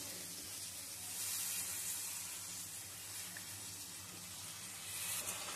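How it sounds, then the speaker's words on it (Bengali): Tomato paste sizzles steadily in hot oil with spices as it is stirred for a vegetarian potato dum, a soft continuous hiss and crackle with no talk. "টমেটো পেস্টটা দিয়ে নাড়ব, আর টমেটোর কাঁচা গন্ধটা চলে যাওয়া অবধি এটা নাড়তে থাকব।"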